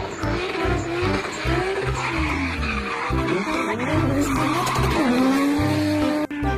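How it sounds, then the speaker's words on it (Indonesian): A toy race car sounds out with loud, continuous skidding and engine-like whine that sweeps up and down in pitch, close and alone. "Wadidaw, di sini ada mobil balap."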